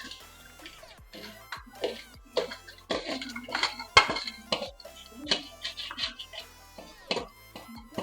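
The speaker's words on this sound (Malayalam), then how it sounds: "നമ്മൾ നേരത്തെ ഫ്രൈ ചെയ്ത് വെച്ച ഞണ്ട് ഇത് അതിലേക്ക് ഇട്ട് കൊടുക്കുകയാണ്" Fried crab pieces tipped into a pan of tomato masala for a Kerala crab roast, giving a run of scraping, clinking utensil and pan knocks and soft wet thuds, fairly close and irregular, with no talk.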